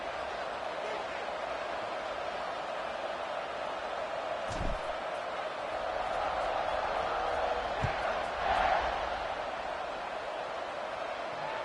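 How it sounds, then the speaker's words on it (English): A football stadium crowd in a college football video game keeps up a steady, loud buzzing roar, with a couple of brief thumps and swells of cheering. "this crowd is buzzing after that last score"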